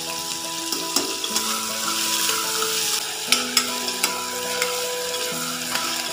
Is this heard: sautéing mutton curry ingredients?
yes